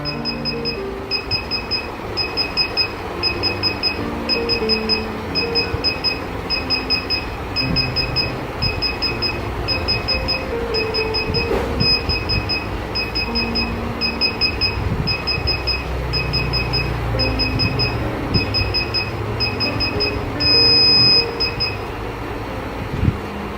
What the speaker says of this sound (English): So the beeping stops.